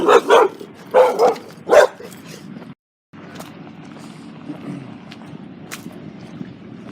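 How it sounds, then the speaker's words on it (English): A dog barks several times near a row of weeping willows in a small Utah town, loud sharp barks in quick bursts, followed by quieter outdoor background noise. "a dog barks at me"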